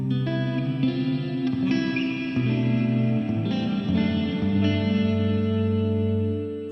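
Electric guitar chords ring through a TC Electronic Hall of Fame 2 reverb pedal set with pre-delay, each strum sitting clearly ahead of a wide, washing hall tail, sustained and alone for several seconds.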